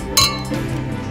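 Glasses clink together in a toast, one bright sharp chime that rings briefly and fades, with quiet room tone behind and no speech.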